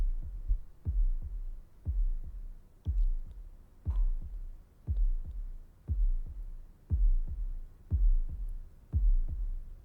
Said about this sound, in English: Heartbeats, for sure. I can hear them.